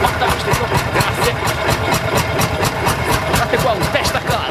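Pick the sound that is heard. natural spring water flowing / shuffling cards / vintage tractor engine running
vintage tractor engine running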